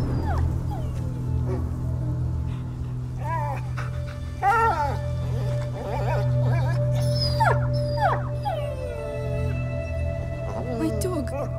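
A dog howls and whimpers in a tense rural scene in the 14th-century French setting of A Plague Tale: Innocence, its rising, wavering calls standing out over a low steady drone and occasional voices.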